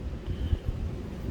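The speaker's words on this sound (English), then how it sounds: "And it's kind of windy today." Wind buffets a microphone outdoors, making a low, rumbling flutter that thumps and swells for about a second with no other sounds.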